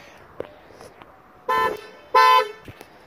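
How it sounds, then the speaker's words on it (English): A BMW car horn with a tone like a Hyundai Elantra's, sounded twice in short, loud blasts of about half a second each, with faint clicks before and after. "Has an Elantra horn."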